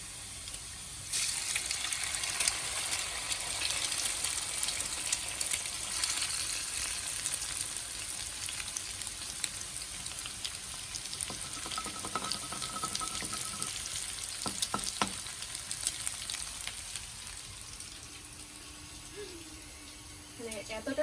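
Potatoes frying in oil in a wok make a steady close sizzle for most of the stretch, with a few clinks and stirring sounds toward the end and no talk.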